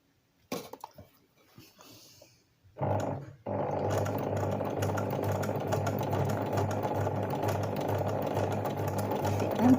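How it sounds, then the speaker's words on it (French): A sewing machine stitches a zigzag embroidery line, running loud and steady with a rapid mechanical hum after a few brief starts and stops, with no talking. "Je fais un petit zigzag."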